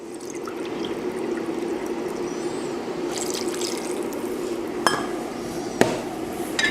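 Water poured into a pot for making ramen, a steady close trickling wash running throughout, with a couple of sharp metallic clinks near the end.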